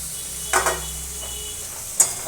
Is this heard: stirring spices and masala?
yes